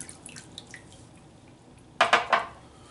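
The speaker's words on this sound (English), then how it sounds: "brush was soaking, drop the water." Water drips and splashes off a soaked shaving brush in a short, fairly loud cluster of splatters near the end, after a quiet stretch of faint room noise.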